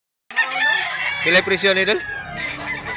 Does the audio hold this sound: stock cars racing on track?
no